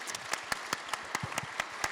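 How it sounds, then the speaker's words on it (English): An audience at a festival panel session gives sparse applause, with a handful of distinct, individual claps spaced out over a short, fairly quiet moment. "join me in applauding and thanking our amazing panelists"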